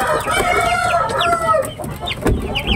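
Chickens cluck and squawk close by while being fed red lady papaya, with a busy, overlapping chorus of calls and a few louder bursts.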